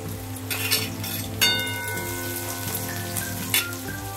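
Steady sizzling of onions frying in a pan until light brown, with occasional scraping and stirring noises over a continuous background hum.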